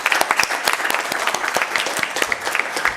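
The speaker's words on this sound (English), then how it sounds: "I think we should just clap one more time for our amazing panelists and our moderator." Crowd at a women's empowerment panel clapping for the panelists and moderator, steady mid-level applause with distinct sharp claps scattered through it, continuous throughout.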